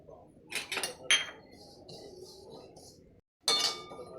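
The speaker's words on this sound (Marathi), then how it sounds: "खसखस भाजूया" Poppy seeds roast in a pan while a metal spoon stirs them, producing a few sharp clinks and scraping taps, close and fairly quiet, with soft rustling in between and a short silent gap.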